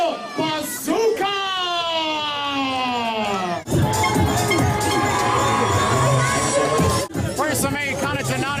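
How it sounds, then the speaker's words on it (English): A crowd at a live wrestling event after an eight-man tag team elimination match cheers loudly, with many high-pitched children's shouts and cries rising over a dense, continuous roar of noise. "let's hear another round of applause for Fuerza Mexicana y el monstruo Bazooka!"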